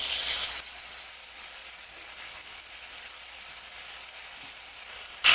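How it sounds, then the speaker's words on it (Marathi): Ginger-garlic paste sautéing with reddish fried onions for bhindi masala, a steady bright sizzle and hiss that starts loud, settles into a constant quieter fry and briefly swells again at the end. "आता त्याच्यामध्ये मी एक चमचा आलं लसूण पेस्ट टाकते थोडी परतून घेऊया"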